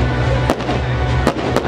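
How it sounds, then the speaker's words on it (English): Fireworks bursting outdoors near a lakeside cliff-jumping spot, with three sharp loud pops spaced out over a constant low rumbling background. "I just don't really get why there's a firework,"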